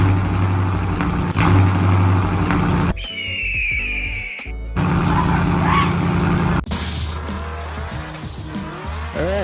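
A 2016 premium package 5-liter Ford Mustang roars at close range, with loud engine revving in bursts, squealing tires and skidding, and brief drops in level between passes.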